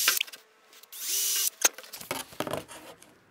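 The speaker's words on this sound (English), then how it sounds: "it's going to be easier to drill a through hole now" A power drill whines in short bursts, boring a through hole in wood, followed by scraping and clattering of the bit and debris, fairly close and alone.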